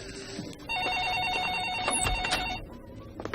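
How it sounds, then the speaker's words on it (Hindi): A telephone rings with a rapid warbling electronic trill for about two seconds, clear and moderately loud, with no talking. "फोन बज रहा है"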